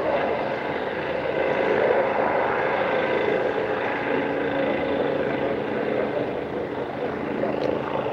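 Helicopter climbing away at low altitude after takeoff, its steady loud rotor and engine drone holding evenly throughout with a broad rumbling texture and no talk.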